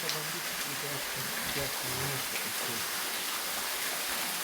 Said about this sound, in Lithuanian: Krioklys.